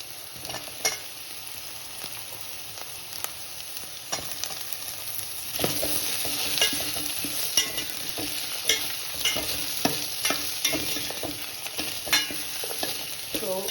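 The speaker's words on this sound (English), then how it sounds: "You can add your potatoes and your carrots and let it fry for another 2 or 3 minutes." Potatoes, carrots and onions fry in a pot for a spicy chicken soup with Indian and Korean flavours, giving a steady sizzle with scraping stirs and small crackling pops throughout, close and with no voices.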